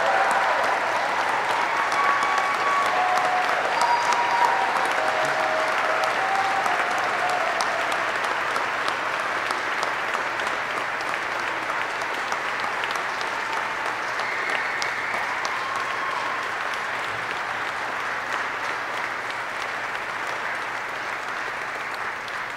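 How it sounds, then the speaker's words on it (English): A large audience applauds Army flight school graduates at a graduation ceremony, with dense, sustained clapping that fills the room at a steady loudness for over twenty seconds and fades only slightly toward the end. "Please join me in a round of applause for the Army's newest aviation warfighters."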